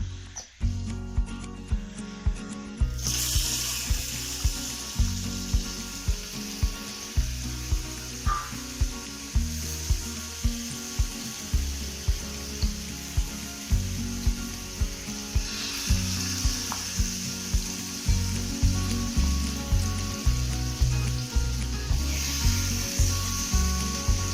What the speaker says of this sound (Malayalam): അതിലോട്ട് ലേശം വെളിച്ചെണ്ണ ഒഴിച്ച് ചിക്കൻ ഒന്ന് ഫ്രൈ ചെയ്തെടുക്കാം.